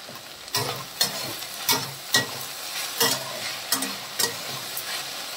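Okra bhujia is stirred and fried in a pan, half cooked and still unseasoned, with a soft continuous sizzle broken by repeated sharp scrapes and clinks of the spoon.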